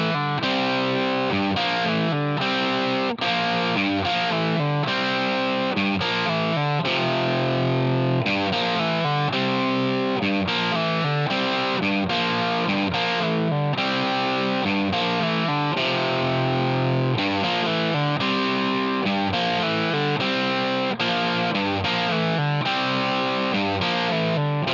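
Distorted electric guitar plays a rock riff through a bridge humbucker with a boxy tone, dense and driving for the whole stretch, loud and steady with no voices.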